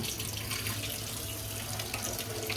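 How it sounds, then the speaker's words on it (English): Cold water from a tap running over hair during a rinse, a steady, close, continuous splashing rush with no pauses and no voices. "cold, as cold as you can stand it, and rinse my hair out"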